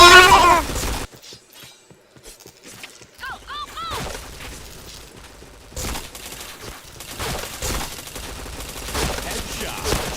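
Bursts of rapid gunfire and sharp shots ring out in a shooting video game, broken by short quiet gaps and mechanical clicks, with voices talking over the action.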